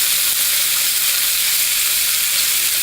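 Chicken pieces sear in a hot pan for a caramel braised chicken with ginger and lime, giving a loud, steady, dense sizzle that holds evenly throughout with no talk.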